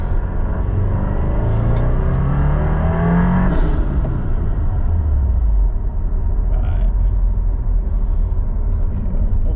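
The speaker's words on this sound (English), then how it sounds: "I'm gonna do a quick little second gear pull real quick" A tuned 2022 Subaru WRX accelerates hard through a short second-gear pull. Its loud engine drone climbs steadily in pitch over rumbling road and cabin noise, then drops off as the run ends.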